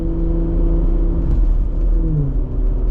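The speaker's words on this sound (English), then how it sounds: "exhaust sounds as right now I'm climbing a little bit of a hill, so I downshifted a little" A Jeep Gladiator with an AWE exhaust climbs a hill after a downshift, giving a steady low rumbling drone with a slight rise in pitch, heard close and continuous with no talking.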